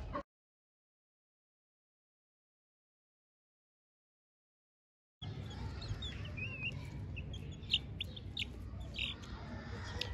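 Several seconds of silence, then chickens clucking nearby with scattered chirps over a low background rumble.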